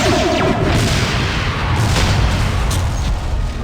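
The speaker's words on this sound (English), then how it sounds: "I'm shooting the phasers" Phaser fire from the 1997 Interplay game Star Trek: Starfleet Academy, a loud, dense, continuous barrage of booming, crackling blasts that keeps going without a break.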